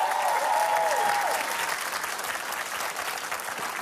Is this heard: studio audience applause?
yes